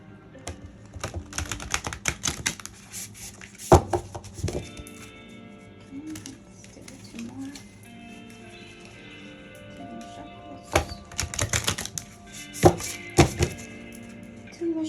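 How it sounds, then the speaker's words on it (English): Large oracle cards are shuffled in bursts of slapping, rustling clacks with quieter stretches between them, close by, with faint background sounds. "shuffles. One more shuffle."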